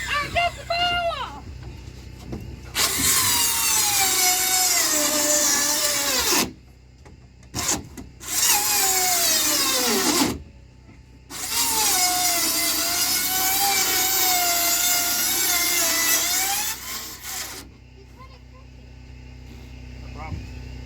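A battery-powered drill spins in several long runs of a few seconds each, loud and close with a whining pitch that rises and falls under load, separated by short pauses. A voice speaks briefly at the start.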